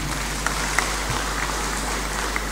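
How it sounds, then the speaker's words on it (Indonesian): An audience applauds the regional military commander at a Korem military base event in Gorontalo, Indonesia. The clapping forms a continuous, even hiss of many hands with a few sharper claps standing out, and no talking. "Sekali lagi tepuk tangan untuk Pak Danrem"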